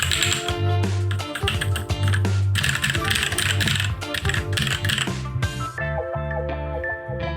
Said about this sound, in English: The sound of the keyboard is okay, not very clicky, and it is not hard to press the buttons.